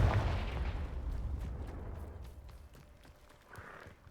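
A fiery Confringo spell explosion in the video game Hogwarts Legacy, a loud booming burst at the start that rumbles and fades away over a few seconds.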